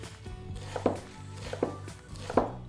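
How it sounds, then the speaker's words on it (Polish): A knife dices an onion into small cubes on a cutting board, a few soft, close chops over a quiet kitchen background. "Najpierw ją muszę pokroić w kostkę."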